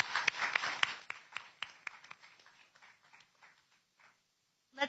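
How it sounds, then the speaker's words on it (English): Student presentation applause at a 2018 transportation competition thins out: a burst of claps quickly dwindles to scattered, fading individual claps, then a brief final flurry at the end. "Let's give them one last round of applause."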